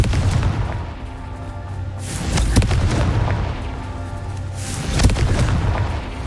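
Confringo blasting spell exploding in the Hogwarts Legacy video game, a pair of deep booming blasts over a dense rumbling game soundscape, the second blast arriving a few seconds after the first, with no speech.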